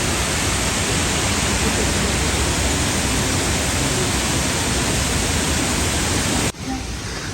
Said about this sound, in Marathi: बघा इथं वरती एक धबधबा आहे छान तो डोंगरावरनं पडतो